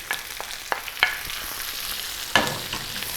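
Minced meat sizzling in a pan as julienned tomatoes go in, a constant frying hiss with a few crisp clacks and scrapes of a spoon stirring; close by, nobody speaking.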